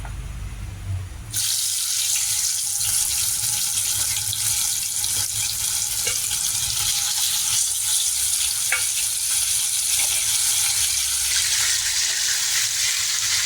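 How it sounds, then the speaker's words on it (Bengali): Steady, dense sizzling of fish frying in hot oil, loud and close, continuing without a break after a brief quieter opening. "কড়াতে আমার তেলটা গরম হয়ে গেছে, মাছগুলো এক এক করে ছেড়ে দেব।"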